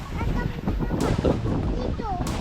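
Strong wind buffets the microphone with a low rumbling roar, while voices talk over it nearby.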